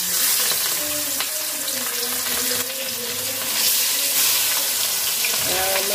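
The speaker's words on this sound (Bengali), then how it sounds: "মাছগুলা ভাজা নিব আগে।" Tilapia fish frying in hot oil in a home kitchen, a steady hiss running continuously at moderate loudness with faint tonal background noises and no talk.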